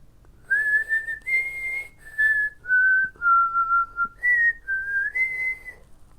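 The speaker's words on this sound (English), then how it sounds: "Mr. Ford's conversation with his wife, Barb began whistling a sweet tune in response" Clear, sweet whistled notes glide through a short melody, each held briefly with small pauses between phrases, close and alone.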